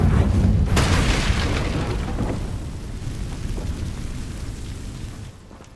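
A fiery Incendio spell blast from the Hogwarts Legacy video game erupts in a loud, close boom, then trails off into a long rumbling roar that slowly fades.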